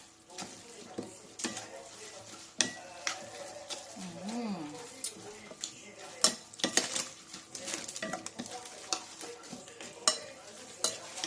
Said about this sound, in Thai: คนส่วนผสมให้เข้ากัน